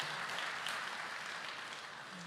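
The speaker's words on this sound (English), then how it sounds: "give me a round of applause" An audience at an All in For Kids event in 2023 gives a short burst of steady applause, moderately loud and continuous from start to finish.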